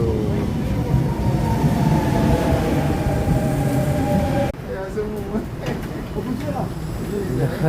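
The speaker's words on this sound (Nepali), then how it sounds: "मेरो ट्रेन पनि आयो ल हजुर मेरो दनु पनि आइपुग्यो यानी कि ट्रेन आयो" A train rumbles heavily nearby with a low drone and rail hum, the sound shifting and easing partway through as it pulls in.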